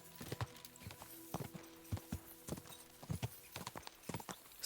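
Rapid rhythmic hoofbeats from a galloping horse in Kingdom Come Deliverance 2, close and steady, with no voices over them.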